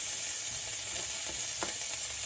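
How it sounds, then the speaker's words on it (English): A sprig of thyme with red and white onions sizzles in butter, a steady close hiss with faint crackles and a light stir, alone without talk. "For the butter, I'm going to add my sprig of thyme and my onions."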